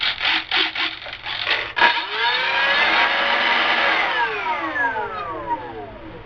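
The electric motor of an E-flite 1.2 m Mark XIV Spitfire RC plane blips a few times and then spools up to a steady high-pitched whine at full power, holding loud and close before easing slightly toward the end.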